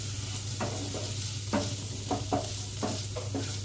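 Spices, slit green chilies and grated ginger stirred in a hot pan: a soft background sizzle broken by repeated scraping strokes of a spoon, about six or seven irregular stirs close by.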